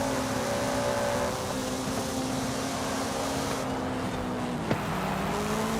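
A Honda car engine in the racing game Forza Horizon 5 drones steadily at high revs, a loud, continuous tonal hum that shifts slightly in pitch throughout, with no talk over it.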